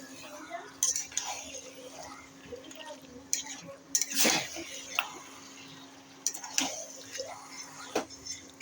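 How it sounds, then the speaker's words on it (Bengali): Chicken pieces are sautéed for kosha in a pan, with clinks and scrapes from a spatula against the cookware. A quiet background hum and light sizzle run underneath, and a voice talks now and then. "মাংস কষানো হচ্ছে।"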